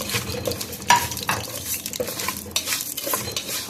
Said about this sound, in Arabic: هحمر الرز وارجع لكم